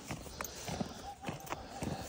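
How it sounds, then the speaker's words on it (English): An agitated horse on a farm near horse trailers and tractors stamps and shifts in the background, faint irregular hoof thuds and movement under quiet talk. "the other horse in the background"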